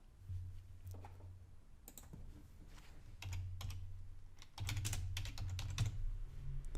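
Fingers type on a computer keyboard, quiet irregular clicks of keys in quick runs, close but soft, with a faint low hum underneath and no talking.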